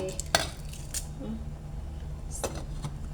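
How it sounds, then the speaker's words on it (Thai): A lid clinks onto a cooking pot of canned-fish tom yum soup with noodles: a couple of quick metallic knocks at close range over a steady low rumble, with no talk. "เราก็จะปิดฝาไว้สักแป๊บก่อน"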